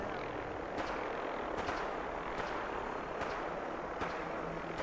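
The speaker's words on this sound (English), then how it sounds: "Who's shooting?" Gunfire in Fallout 4: a handful of spaced, muffled shots cracking about once a second over a steady rumbling background, fairly faint and distant.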